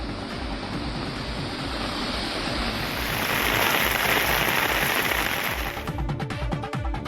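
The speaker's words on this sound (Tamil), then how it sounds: "இரவில் பரவலாக மழை பெய்தது" Heavy rain falls at night in Chennai, a dense continuous hiss that swells louder midway, with sharper close patter near the end and no voices.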